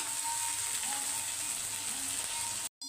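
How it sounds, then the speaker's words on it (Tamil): Onions sautéing in a pan, a steady close sizzle with a faint hum running underneath, cutting off abruptly near the end. "வெங்காயம் வதங்கட்டும்"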